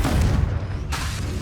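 A Confringo fire curse goes off in Hogwarts Legacy with a loud, booming blast, a dense burst of noise that briefly drops away before a second crackling surge.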